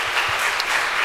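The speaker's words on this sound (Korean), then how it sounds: "우리 큰 박수로 한번" Church congregation applauding at a special evening revival service, a steady, dense wash of clapping from a large crowd filling the sanctuary, close and sustained throughout.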